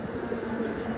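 Pigeons coo close by in a low, soft, steady murmur that runs through the whole second, with faint bird chirps over it and no talking.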